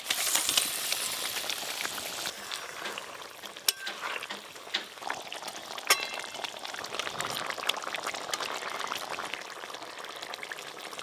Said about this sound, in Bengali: এই দেখুন ঝোল ফুটে গেছে, এবার ভেজে রাখা মাছ দিয়ে দেবো